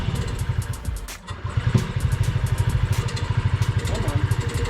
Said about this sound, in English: Yeah, it doesn't hold an idle, but it does turn on.